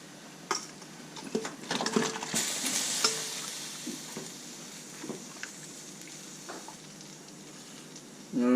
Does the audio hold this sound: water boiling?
yes